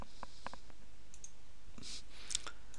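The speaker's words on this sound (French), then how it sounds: "touche I au clavier et clique" Quiet clicks from a computer keyboard key press and a mouse click while working in the Unreal Development Kit Kismet editor, a few sharp, close taps spread over a soft background hum.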